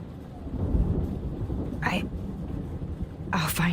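A thunderstorm in the Life is Strange video game: a steady low rumble of rain and thunder runs throughout, with brief hissing bursts of wind or rain rising over it, while faint whispered voices sit under the storm.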